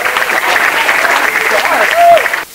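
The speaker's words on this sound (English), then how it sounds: "Let's give a big round of applause." An audience at a high school spring choir concert claps loudly and steadily for about two seconds. The applause is close and dense and ends abruptly.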